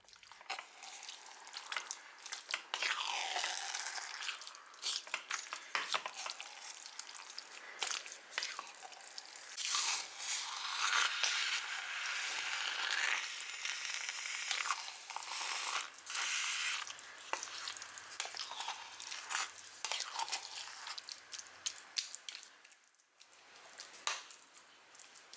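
Paper-mache pulp boils in a pot while being stirred continuously, giving quiet wet squelches, drips and soft scraping clicks in an uneven rhythm.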